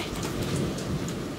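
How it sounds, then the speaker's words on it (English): Epic thunder and lightning sound effect: a dense, steady rumbling roar like a storm with rain-like hiss, loud and continuous throughout with no voices. "A bit of epic lightning and thunder to go with this epic card."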